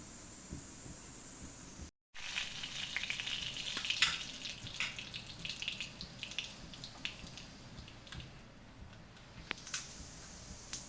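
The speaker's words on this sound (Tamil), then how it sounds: "சீரகம் நல்லா பொரிஞ்சோன்னே வெங்காயத்தை போடுவோம்" Cumin seeds splutter in hot oil in a pan for a Tamil snake gourd stir-fry, a steady close crackling sizzle that runs throughout with scattered louder pops and no talking.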